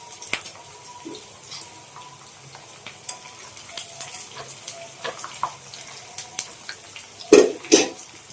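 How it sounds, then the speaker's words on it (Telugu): Garlic and green chillies frying in a pan for mango pulihora, with soft crackle and scattered stirring scrapes, ending in a couple of louder clatters near the end; no talk. "కొంచెం కలుపుకొని బాగా ఫ్రై చేద్దాం దీన్ని."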